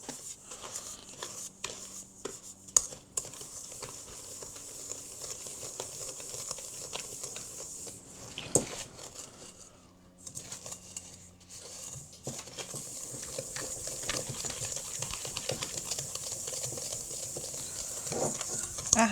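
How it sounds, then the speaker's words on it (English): Sugar being whisked by hand into butter in a bowl, heard as quiet, irregular scraping and tapping strokes that continue throughout, with a brief pause midway. "we're doing this by hand today. So we're going to go ahead and whisk that in"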